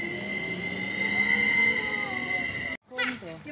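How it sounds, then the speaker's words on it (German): A train at Uhingen railway station rumbles close by with sustained squealing wheel tones and a steady mechanical drone, then cuts off abruptly as someone speaks. "Ein Zug, ja."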